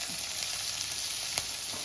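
Onions and grated ginger sizzle steadily in a hot pan, a constant bright crackle with a soft scrape of stirring near the end.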